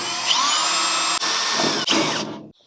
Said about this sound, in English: I'm gonna drill a smaller hole first